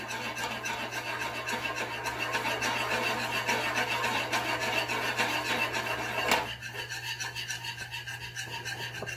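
Butter being whisked into a beurre blanc sauce in a pan gives a continuous, rapid scraping rasp of whisk against metal, close and steady, ending in a brief clatter and quieter rubbing.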